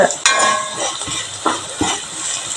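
Chili powder and turmeric sautéing in a pan, with close, loud spatula scrapes and clinks over a continuous frying hiss.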